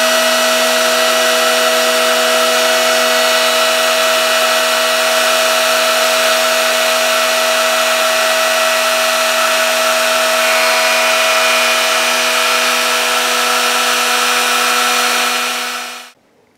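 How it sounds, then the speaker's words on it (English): A router cuts a shallow recess a couple of millimetres deep into a guitar body, a loud, steady high whine that holds for about sixteen seconds and then stops abruptly. "So we've got our router ready, so we're just gonna do one pass and just go down a couple of mil in that shape"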